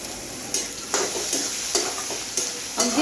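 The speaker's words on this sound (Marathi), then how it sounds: "आता आपण शिमला मिरची 2-3 मिनटं अशी छान अशी परतून घेऊयात" Onion and capsicum stir-fry over high heat for Schezwan fried rice: a steady close sizzle broken by regular spatula scrapes and tosses roughly every half second, with no voices.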